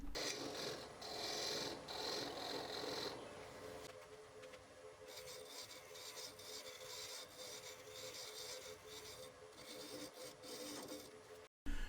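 Continuous raspy rubbing of sandpaper on a turned padauk and maple segmented wooden urn lid on a lathe, steady and close, shifting in texture partway through before stopping abruptly.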